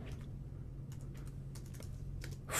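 A computer keyboard typed on in short bursts of light, close clicks, with brief pauses between keystrokes and no talk.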